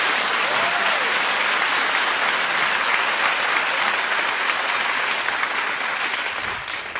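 A studio audience at a daytime talk show breaks into loud, sustained applause that holds at full strength for several seconds and fades slightly at the end.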